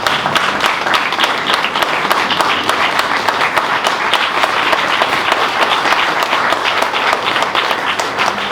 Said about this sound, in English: Let's give them a stand ovation as well